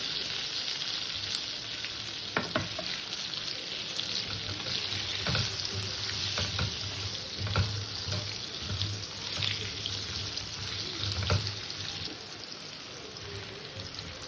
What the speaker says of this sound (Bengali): আলু কটাকে একটু হালকা ভেজে নেবো